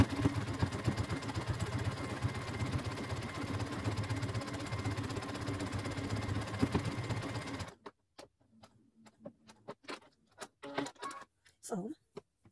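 A sewing machine runs a zigzag stitch on a leopard-print fabric bag, a steady, close mechanical whirr with rapid rhythmic needle beats for several seconds, then stopping into quiet clicks and handling noises.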